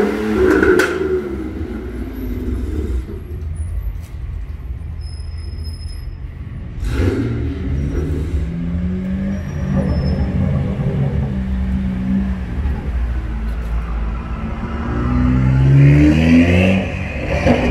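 Several cars drive slowly and maneuver into parking spots around a crowded dealership lot, engines rumbling and revving briefly close by, with clattering and faint background movement.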